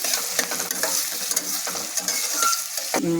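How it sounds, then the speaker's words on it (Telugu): Curry leaves fry in hot oil in a pan, a steady close sizzle with stirring scrapes running through it and a brief higher clink near the end, no voices. "కరివేపాకు వేసుకోవాలి. అది వేగాలండి."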